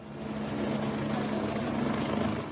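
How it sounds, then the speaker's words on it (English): A helicopter hovering over floodwater, a steady loud rotor roar and whine that holds constant throughout without any voices. "Here, a helicopter hovers, help so close."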